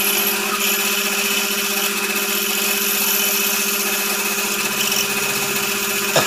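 A steady, continuous whine of a power drill running a 9 mm bit without pause, close and fairly loud, with no talking.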